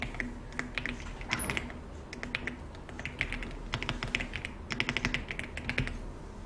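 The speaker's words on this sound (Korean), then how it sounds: "키보드에서 컨트롤 키 누른 상태에서 C 컨트롤 C 누르셨어요?" Quiet, irregular clicks of computer keyboard keys, pressing Ctrl+C, scattered taps in small bursts with brief pauses between them.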